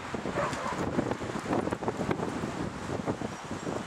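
Gusty wind buffets the microphone in uneven bursts, a rough, close rushing noise with no voices.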